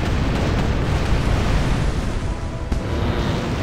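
Ship cannons firing in the pirate video game Tempest: a dense, continuous roaring rumble of booms blended into a broad wash, loud and sustained throughout, with no clear separate shots and no talking.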